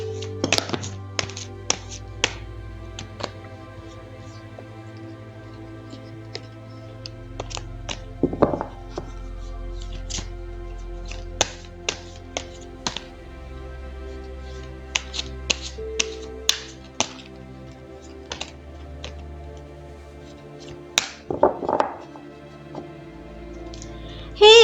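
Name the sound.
shuffling tarot cards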